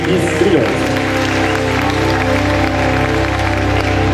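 An audience at a French mini-duchess award ceremony applauds a named 12–15 age category winner, a continuous wash of clapping under background music and faint voices.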